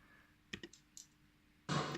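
Small mechanical click sound effects resembling a gun being loaded, a few quick dry clicks in sequence, followed by a louder, broader burst of noise near the end.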